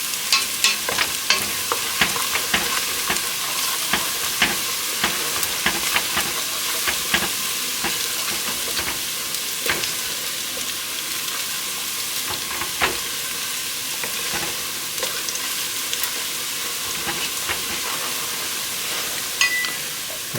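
Whole cumin seeds toast in a hot pan, a dense continuous sizzle broken by quick scraping and rattling stirs, loud and close, with no voices.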